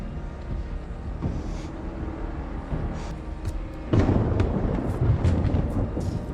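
A low rumble of thunder rolls in the distance, then swells into a heavier, closer roar that carries on to the end.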